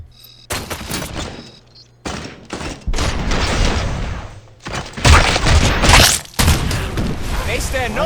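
Enemy gunfire erupts in bursts during a firefight in the video game RoboCop Rogue City, with loud volleys, booms and rattling shots breaking off and restarting over several seconds, a voice talking between them.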